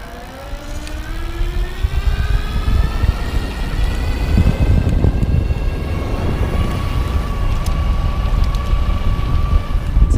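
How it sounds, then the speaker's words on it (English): A Green World Bike E-Trolley folding electric bike's motor whines under throttle, its pitch rising steadily as it speeds up. Continuous wind and road rumble sit beneath it, with no talk. "So here we're gonna hit the throttle, show you the motor."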